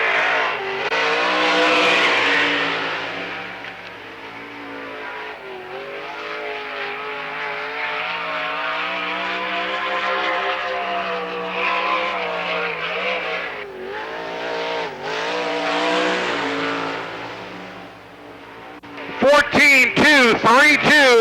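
Rodney Duncan's Holbrook race car, a Schnee chassis machine, laps Lernerville Speedway with a loud, continuous engine roar that rises and falls through the turns, under a track announcer's commentary.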